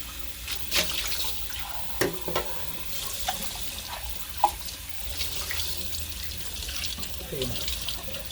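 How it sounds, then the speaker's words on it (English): Cold water runs steadily from a tap, splashing and shifting as a cup is rinsed under it, with occasional clinks. "I'm going to rinse my cup out with cold water."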